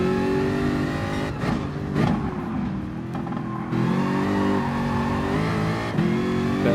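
A Jaguar Gr3 race car in a racing video game screams around the Nordschleife, its engine revving up and down through gear changes in a loud, continuous howl.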